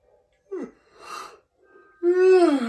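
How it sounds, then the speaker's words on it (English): A person yawns, drawing in short breathy gasps before a long, loud, drawn-out voiced yawn that slides downward in pitch, heard close and alone. "It's just me yawning to death."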